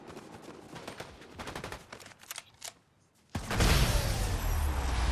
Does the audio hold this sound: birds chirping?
no